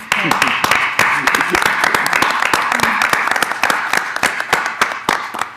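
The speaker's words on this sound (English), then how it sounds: "Can we get a special round of applause for just the student movement?" An audience at a gathering on policing gives a round of applause for the student movement, a dense, steady clatter of many hands close by, with a voice speaking over it.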